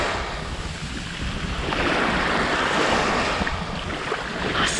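Sea waves wash onto the beach at Sarti, Greece, a continuous broad rushing surf swelling slightly louder midway, with wind buffeting the microphone and no voices.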